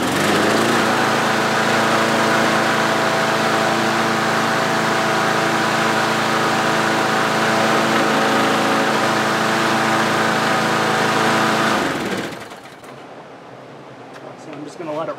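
An MTD lawn mower with a Briggs engine runs steadily and loudly up close while warming its oil, then cuts out near the end, leaving a quiet tail.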